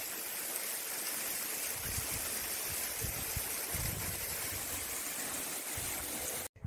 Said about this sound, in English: You see the water coming out from the waterfall?